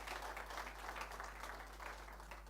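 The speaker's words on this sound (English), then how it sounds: "A big round of applause." Faint, distant applause at the Old Mutual Schools Quiz Finals for the African Records CEO, a continuous crowd patter under a low steady hum, with no voices.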